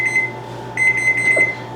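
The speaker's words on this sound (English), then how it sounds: "I mean, not the alarm, but the timer." A kitchen timer going off in a home kitchen, giving a short burst of rapid high electronic beeps, a brief gap, then another quicker run of beeps, close and clear over a low steady hum.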